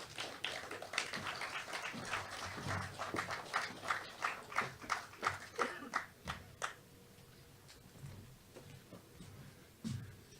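An audience at the opening ceremony of the LUCELEC 3MW solar farm in Vieux Fort, Saint Lucia, claps for the Prime Minister, with scattered, moderately close applause that thins out after several seconds and leaves a quiet room.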